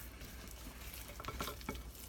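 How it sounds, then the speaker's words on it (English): Keto cookie dough with egg being stirred in a bowl, a soft, steady wet scraping with a few louder spoon scrapes near the end, close and alone. "we're going to stir this all up really super good"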